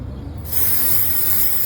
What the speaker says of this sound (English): To remove the label, we simply spray on the underside,